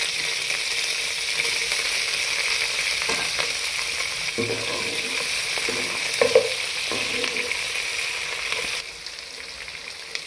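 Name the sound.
green chillies and onions frying in a pan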